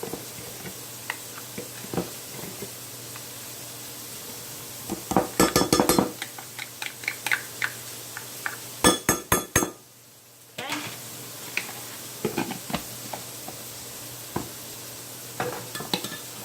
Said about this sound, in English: I'm going to put, with a clean spoon, a 1/2 cup of mayonnaise